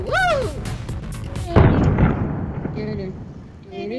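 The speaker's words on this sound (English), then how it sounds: "Someone just blew something up." A sudden loud blast in Garry's Mod cuts in midway, booming and then trailing off, following a stretch of music-like tones, with voices talking around it.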